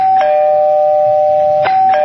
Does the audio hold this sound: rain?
no